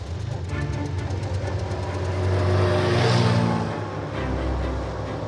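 A vintage 1,750cc car engine runs at close range, a steady loud mechanical roar that swells in the middle and then settles back to a rumbling idle.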